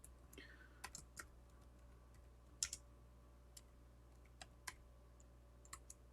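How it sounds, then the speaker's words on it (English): Quiet typing on a computer keyboard: scattered, irregular key clicks with one sharper tap, heard faintly over a low background hum and no speech. "I'm typing English again."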